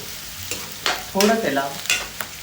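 Onion and chilli fry in a pan while a spoon stirs them in bursts of scraping and sizzle, close and fairly loud, with a brief voice speaking over it.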